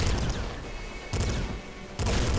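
A hyper pop rifle fires in the Nuclear Throne Ultra Mod video game, loud bursts of rapid popping shots in three close blocks, separated by brief dips.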